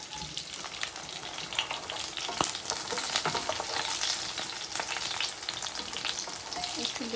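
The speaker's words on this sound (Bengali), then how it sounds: "এরপর আলুটাকে একটু ভেজে নিব।" Potato slices frying in oil in a small pan, a steady close sizzle with scattered crackles and pops running throughout.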